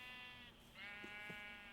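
Sheep bleating in a survival video game, a steady drawn-out bleat lasting the whole moment, fairly quiet and heard alone without talk.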